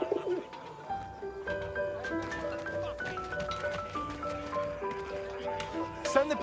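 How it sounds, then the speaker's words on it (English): A pigeon coos softly in the war video game 11-11 Memories Retold, a steady run of low burbling calls laid over sustained background music. "Send the pigeon to Raphael's face."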